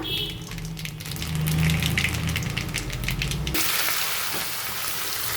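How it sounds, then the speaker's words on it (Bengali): Nigella seeds hit hot oil in a wok and crackle and sizzle up close, a busy hiss that turns into a brighter, denser fizz midway and continues to the end without speech. "কড়াইতে তেল দিয়ে দিছি আর দিয়ে দিলাম কালো জিরা"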